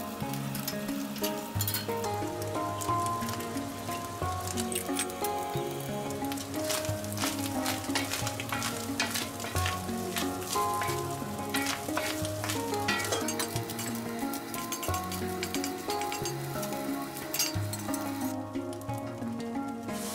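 Seasoned tantuni meat with salt and paprika is stirred in a hot pan, with steady sizzling and frying and the scrape of a utensil against the metal, heard continuously throughout, close and moderately loud.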